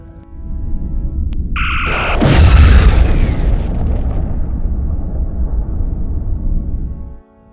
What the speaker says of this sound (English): Victor, fire phasers at one specific point. If it's effective, follow with a photon torpedo.